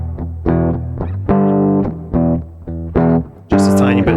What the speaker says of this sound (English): Let's make a clean sound of a guitar with a little reverb.